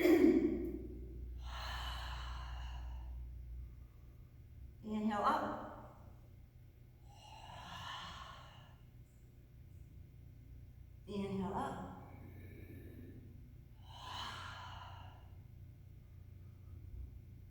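Slow qigong breathing, long audible inhales alternating with sighing exhales in a steady rhythm, close and clear in a quiet room, with no talk.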